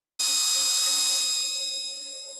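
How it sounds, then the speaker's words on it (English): A power drill boring drainage holes in a garden container, starting abruptly as a loud, high, steady whine with a tonal edge that slowly fades a little over a couple of seconds. "I've got extra holes drilled and I'm happy with the amount of drainage"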